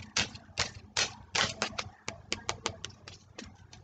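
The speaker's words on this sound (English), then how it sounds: "I'm using the Oracle deck, by the way, if you heard the shuffling right here." Oracle cards are shuffled in quick bursts of crisp riffling and flicking, a run of sharp slaps and rustles close by.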